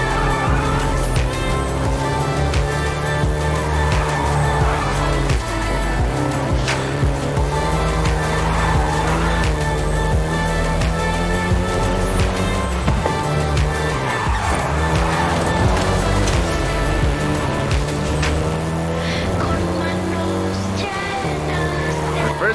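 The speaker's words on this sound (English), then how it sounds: "including the Golf GTI you're driving right now" A Volkswagen Golf GTI is driven in the racing game Forza Horizon 5, its engine droning steadily, with tire squeals and skids cutting in repeatedly over a loud, continuous mix.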